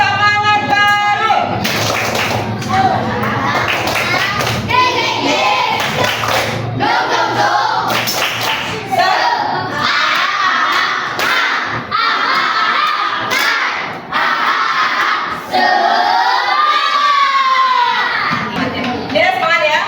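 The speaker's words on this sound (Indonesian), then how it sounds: "Oke, kita mulai. Tepuk semangat baru." Classroom of children doing a rhythmic group clap routine during a coding and artificial intelligence lesson, with bursts of claps and children chanting and shouting together over a noisy room for about twenty seconds.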